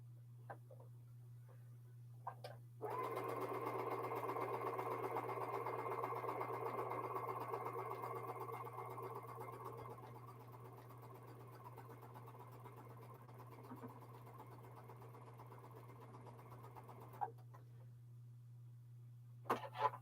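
A sewing machine chain piecing quilt fabric stitches in one steady, fairly loud run for about seven seconds, then stops, leaving a constant low hum and a few faint clicks and handling sounds.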